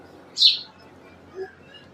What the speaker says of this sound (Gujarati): જો કબૂતર આવ્યું